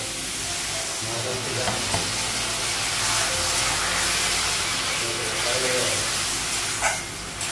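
Boiled potatoes frying in a pan give a dense, steady hiss and sizzle throughout, close and even, with a few faint clinks and scrapes of a utensil.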